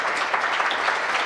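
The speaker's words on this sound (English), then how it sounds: "they should deserve a clap" A short burst of applause from an audience, steady, dense clapping at moderate distance.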